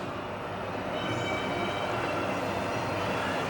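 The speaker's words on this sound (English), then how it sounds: "Here's the train. Here it comes." A model train runs at a toy and model museum, a steady close rumbling and rolling roar with faint high squeal overtones sustained evenly throughout, with no talking.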